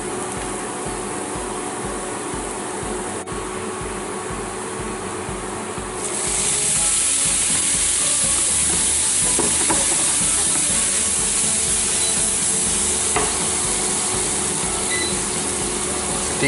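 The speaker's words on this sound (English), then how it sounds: "Deglazing the pan will lift all the spice and things off the bottom of the pan" Soy sauce hits a hot pan during deglazing, giving a steady hiss that suddenly swells into a louder, brighter sizzle partway through and holds there, close and continuous with no voices.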